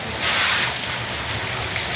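Rain falls in a steady, close hiss of drops on surfaces outdoors near a road, unbroken and fairly loud throughout.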